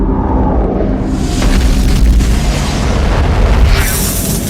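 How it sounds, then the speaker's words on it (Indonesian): A mysterious black object near Jupiter explodes in a science-fiction film, a loud, sustained booming rumble with a crackling burst that swells and rolls on for several seconds. "Benda itu kemudian meledak lalu berubah menjadi planet hitam menyala."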